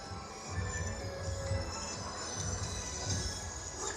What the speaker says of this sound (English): Oh, and now the train's showing up.